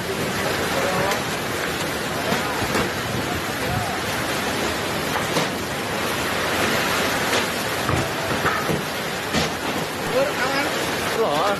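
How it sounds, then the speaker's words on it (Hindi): Steady, dense rush of heavy storm rain with a broad roaring wash, driven by strong winds, continuous and fairly loud throughout. "तेज हवाओं के साथ बारिश में कई अस्थायी शेड उड़ गए"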